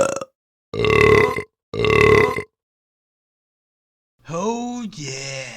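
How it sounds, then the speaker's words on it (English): A man burps loudly without restraint, two long, loud belches close by, followed after a pause by a groaning voiced sound. "a man who burped loudly without any shame"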